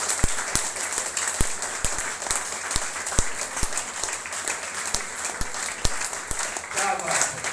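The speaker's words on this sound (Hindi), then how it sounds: "तो आपको आपकी जवानी की कसम थोड़ी जोरदार तालियां बजाना पड़ेगा।" Audience applause fills the space at a live motivational seminar in India, a broad wash of steady clapping with sharp individual claps popping through, loud and sustained throughout.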